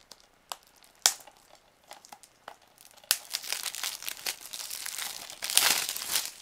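Plastic wrapping on a boxed Resident Evil 2 PS4 game is torn and crinkled, with a few sharp crackles at first, then a steady, louder rustling and tearing up close.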